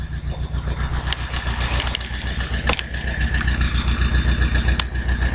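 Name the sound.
tractor engine idling after warming up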